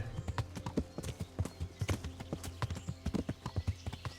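Horse hooves clip-clopping in Kingdom Come Deliverance while riding toward a bridge, a steady, close rhythm of hoofbeats carrying on throughout.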